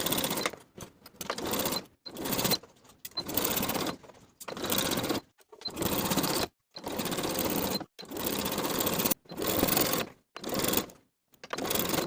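A sewing machine stitches a garment waistband seam in repeated loud whirring bursts of a few seconds each, separated by brief stops, with no talking.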